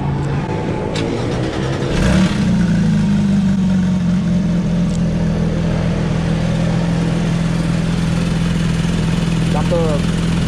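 A Porsche GT3 at Sentul Circuit cranks over and starts with a sharp burst, then settles into a loud, steady idle, with people talking over it.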